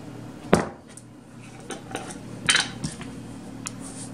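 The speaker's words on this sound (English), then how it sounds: "so you want to stir it till it's dissolved" A spoon clinks against the side of a bowl while stirring sugar into water for bread dough, a few soft scattered scrapes and taps, close and quiet.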